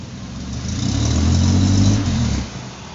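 A car engine with an oil warning light flickering on and off is revved once up close, climbing to a loud, rough roar that holds for about a second before dropping back toward idle.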